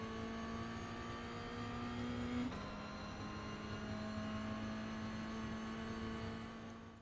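Toyota GR86 in iRacing lapping the Navarra circuit, a steady, faint engine drone that holds one note, steps up once, then stays constant before fading slightly at the end.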